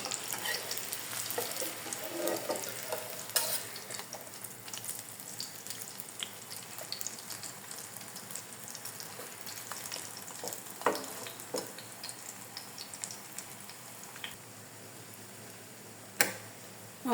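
Afghan wheat-flour roti fries in a pan with a soft, continuous sizzle and crackle, punctuated by a few sharper clinks and scrapes, fairly quiet and close with no voices.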